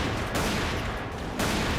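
Dense, continuous rapid gunfire from the video game Battery Online, loud and close, with a slight dip midway before resuming at full intensity.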